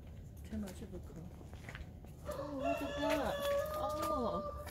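A rooster crowing close by, with several loud, drawn-out crows in the second half that rise and fall, over a steady background murmur of outdoor noise.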